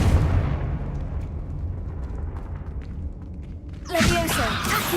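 A Confringo fire spell in Hogwarts Legacy bursts with booming, rumbling blasts, ending in a loud, bright explosion near the end, with voices heard in the mix.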